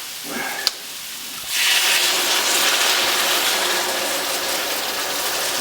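Cooking sherry hits a hot pan of crawfish for étouffée, bursting into a loud, steady sizzling hiss that rises sharply after a brief clatter and holds close and unbroken to the end.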